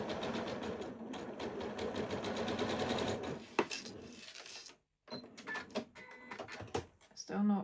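A sewing machine stitches a quarter-inch seam in rapid bursts of fast mechanical chatter, pausing briefly between runs, with a quiet voice talking over it.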